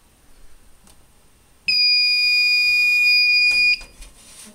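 Fire-Lite MS-9600UDLS fire alarm panel sounding during a system test with two detectors activated: a loud, steady high-pitched electronic tone starts abruptly, holds for about two seconds, then cuts off into a quiet room.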